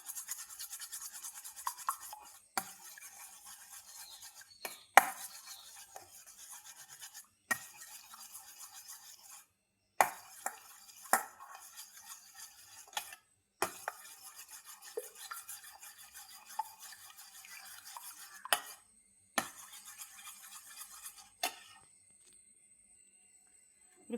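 Two eggs with salt and pepper beaten briskly in a bowl for kotthu chapati, rapid whisking scrapes in repeated bursts separated by short pauses, close and soft, ending with a faint tone.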